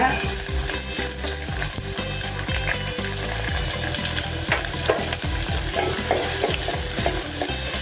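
Onion sizzles in a hot pan with garlic, a steady, close crackling fry broken by repeated scrapes and stirs of a utensil.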